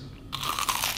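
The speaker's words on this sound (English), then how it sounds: "The crunch and the freshness from the fry in there, the crispiness and the chips." Crunchy bite into a Korean corn dog coated in fried batter with embedded potato chips: a single loud, close crisp crunch after a short silence, followed by a brief crackling break-up, with no talking.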